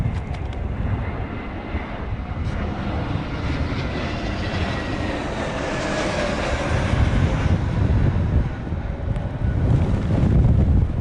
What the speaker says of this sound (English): wind should start to decrease soon